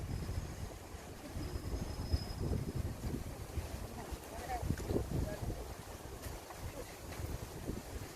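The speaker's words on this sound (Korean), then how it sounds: "바람이 살살 불고 좋습니다, 공기가." Gentle night wind along the Cheonggyecheon stream in Seoul buffets the microphone as a low, steady rumble, with a faint outdoor ambience and occasional distant voices.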